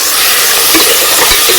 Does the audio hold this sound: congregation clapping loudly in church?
no